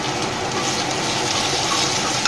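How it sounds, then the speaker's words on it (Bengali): Water pours into a pan of homemade cumin and coriander spice paste for a restaurant-style paneer dish, a loud steady gushing splash lasting a couple of seconds. "তো মশলা ধোয়ার জল দিয়ে দিলাম"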